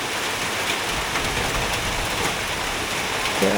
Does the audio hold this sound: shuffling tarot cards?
no